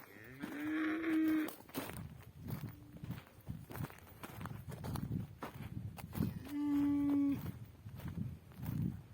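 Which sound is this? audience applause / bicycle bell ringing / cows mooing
cows mooing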